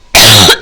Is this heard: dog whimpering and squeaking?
no